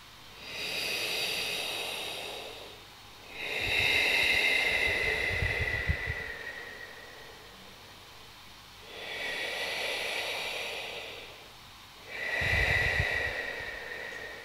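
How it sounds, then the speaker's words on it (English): Slow, steady breathing with a hissing, throat-constricted friction, four long breaths alternating in and out, close and continuous with no talking. "larynxal breathing, create a bit of friction in your breathing tube."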